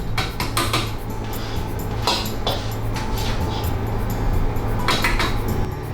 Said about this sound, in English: Let's remove these bits from the frying pan.